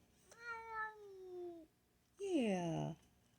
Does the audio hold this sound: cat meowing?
yes